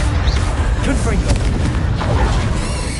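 Booming Confringo spell explosions in the Hogwarts Legacy video game, dense and continuous across the moment, with a voice speaking over the blasts.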